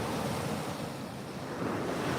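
Steady ocean surf washing against the shore, a continuous broad roar with wind buffeting the microphone and no clear breaks between waves.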